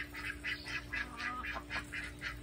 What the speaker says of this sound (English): And then the ducks are taking a bath, morning bath.